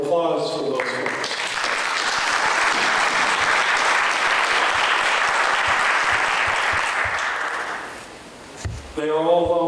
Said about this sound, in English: I would suggest a round of applause for those folks.